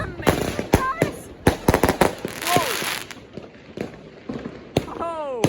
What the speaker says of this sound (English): So this is firework called Infinity.